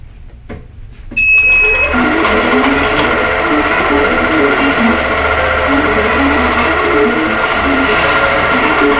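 A quilting sewing machine stitches a pantograph design with a loud, steady, rapid mechanical whir, starting after a brief high beep and running continuously up close.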